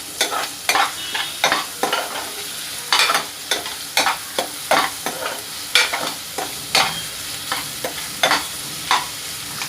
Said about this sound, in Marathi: मी इथे 2 कांदे बारीक चिरून घेतले आणि त्यांना पण मी आता त्यामध्ये टाकणार आहे